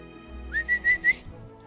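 Four short whistled notes calling tawny owls, in a steady rhythm, each rising slightly, sounding close and clear against a quiet background.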